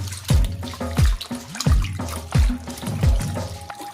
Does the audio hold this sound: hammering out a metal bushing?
no